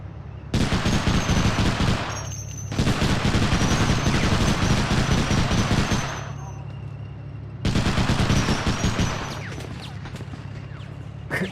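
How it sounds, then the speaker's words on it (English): Gunfire in a Medal of Honor Underground battle comes as long, loud bursts of rapid automatic shooting, broken by short gaps and a quieter stretch of more distant shots. "The guy's shooting."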